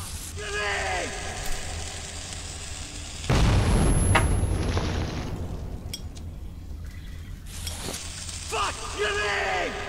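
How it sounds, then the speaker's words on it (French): A grenade blows up in Metro 2033: a sudden loud burst partway through that slowly decays into rumbling debris, framed by quieter game sounds and a talking player before and after. "On va tirer une grenade."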